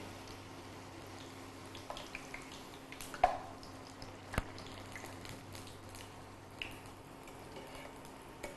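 Puri frying in hot oil in a kadai gives a soft, steady sizzle with a few sharp pops and crackles. It stays fairly quiet and close, with no talking.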